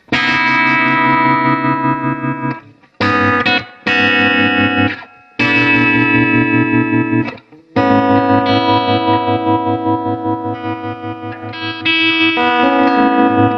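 An electric guitar played through a vintage Nobels TR-X tremolo pedal rings out in sustained, distorted chords broken by short pauses, loud and close with a pulsing, wavering texture and no talking.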